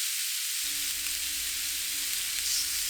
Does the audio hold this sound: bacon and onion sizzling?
yes